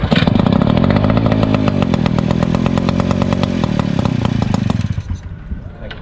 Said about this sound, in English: You can see engine started.